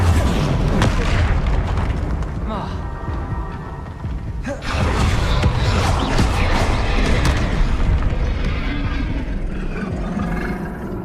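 Confringo fire spells explode in the Hogwarts Legacy video game, with a dense, continuous barrage of loud booming blasts and rumble, a brief lull near the middle, then more heavy explosions.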